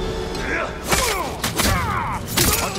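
Black powder bombs are thrown in Ghost of Tsushima, bursting in a rapid series of sharp, loud blasts with crackling debris, roughly four close explosions within a few seconds over game noise.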